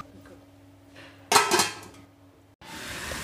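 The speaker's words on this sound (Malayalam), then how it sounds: "ഒന്നും കൂടി കുറച്ച് നേരം ഇളക്കിയിട്ട് ഒന്ന് അടച്ച് വയ്ക്കാം നമുക്ക്." A spoon scrapes and clatters against a pan of okra masala curry in a short burst. It is followed by a steady hiss from the pan after a brief pause.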